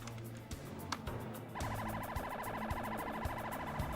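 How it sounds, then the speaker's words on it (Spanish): A police patrol car and an ambulance race to a university dormitory with sirens wailing, a rapid electronic warble cutting in partway through over a thumping background, fairly distant and steady. "Una patrulla de la policía y una ambulancia acuden a la escena."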